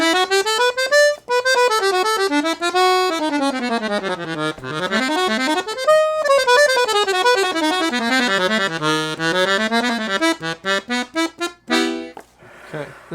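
Ottavianelli Aero II piano accordion in bassoon register, black inverted LMMM 34-key model, played alone as a rising and falling scale of sustained reedy notes, loud and close, ending in a run of short detached notes.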